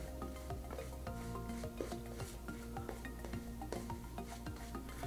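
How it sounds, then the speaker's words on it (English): Razorock Black Bay shaving soap being lathered with a brush, a close, wet, rhythmic swishing and squelching that stays steady and moderately quiet throughout, with no talk. "Seems to be making a very, very nice lather."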